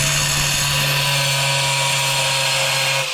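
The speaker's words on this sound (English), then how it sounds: "But just let the weight of the grinder do it. Don't push." An angle grinder cutting a round hole in tile whines steadily and loudly up close, a constant high-pitched motor drone with a strong hum beneath, running unbroken without talk until it eases off at the very end.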